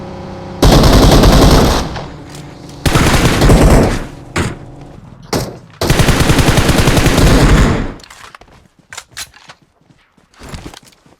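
Uzi fire in a video game: long, loud bursts of rapid automatic shots in three main strings, then scattered single shots and clicks that fade toward the end, with no talk over them.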